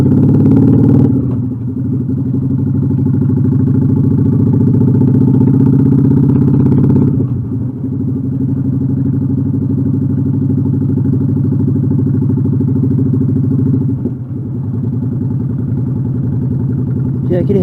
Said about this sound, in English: see how slow that engine's going? Pop, pop, pop, pop, pop, pop, pop, pop. It's barely even going.